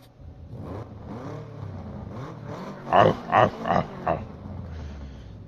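Subaru WRX with a 6-speed manual in the video game Forza Motorsport 7, engine revved in four sharp blips after a lower idle rumble, fairly close and alone.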